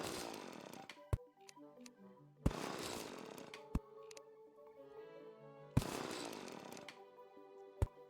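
A drill in the video game Terraria runs in long, harsh buzzing stretches, three bursts separated by a lingering ringing tone, with sharp clicking impacts between them, fairly quiet.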